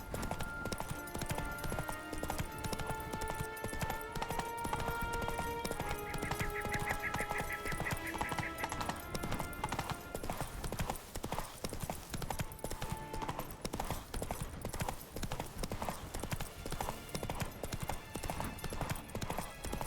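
Hooves clip-clop in a fast steady rhythm as a horse gallops in The Witcher 3, loud and continuous under layered game music with tones and chimes.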